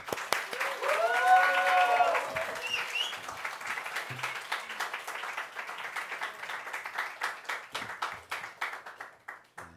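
A church congregation claps during a Sunday service, starting under voices and a swell of sound, then thinning into individual, spaced claps that gradually fade toward the end.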